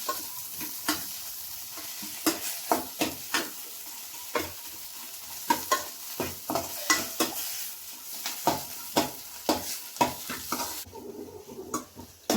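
Masala with chili powder sautés in a pan for paniyaram, with a steady close sizzle and repeated sharp scrapes and taps of a spoon stirring against the pan, and no talking.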